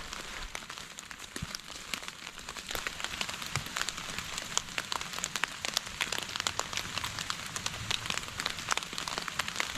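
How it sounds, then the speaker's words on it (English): Rain patters on a mountainside in a 15 mph wind, with scattered sharp drop impacts ticking over a steady hiss, close and fairly faint, with no voices. "it's raining, the wind is blowing a good 15 miles an hour"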